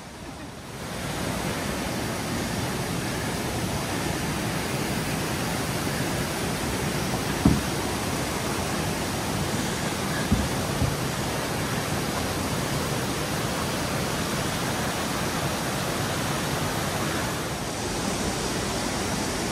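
Watson Falls in Oregon's Umpqua National Forest roars as a steady, broad rush of falling water, close and constant, with a couple of faint knocks.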